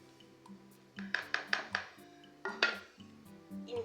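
A spoon mixes red chili, garam masala, black pepper and dried fenugreek into yogurt in a bowl, producing quiet clusters of quick metallic clinks and scrapes against the bowl.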